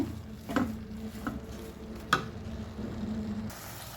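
Leafy greens being stir-fried in a pan after salt is added, with quiet soft stirring scrapes and a few sharper clinks of the spatula over a faint low sizzle.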